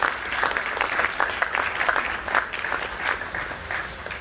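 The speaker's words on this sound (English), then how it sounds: "Can I have a round of applause for David?" Audience applause at a civic ceremony in Dayton honoring an author, a steady dense round of clapping from a crowd filling the whole stretch at even strength.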